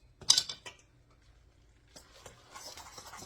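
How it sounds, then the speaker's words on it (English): Cabbage and carrots being mixed in a bowl for cabbage patties, with a few close clinks and scrapes of utensil against the bowl at the start, a quiet pause, then softer rustling stirring toward the end. "Mix this all up."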